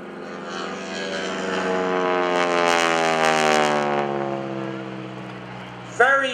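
Propeller airplane passing at an airshow, a loud droning engine swelling as it approaches and fading away over several seconds, with a brief sharp noise at the end.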